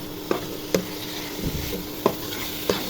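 Potatoes and flat beans stir-fried with spices for a rohu fish curry, with several sharp spatula scrapes and clinks against the pan over a low, steady sizzle.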